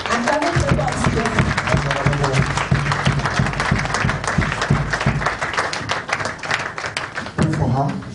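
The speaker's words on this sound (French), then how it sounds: "Clap your hands to Jesus." A church congregation claps hands in a steady, continuous patter of applause that runs throughout, mixed with loud singing or chanting voices and a low rhythmic backing.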